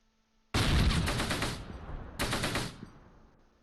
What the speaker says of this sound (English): That way we can get the machine gun fire as well.